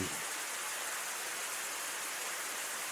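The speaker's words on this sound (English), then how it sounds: "But I can't hear it because of the rain." Rain in a visual novel video game, a dense, even hiss of steady rainfall with no voices.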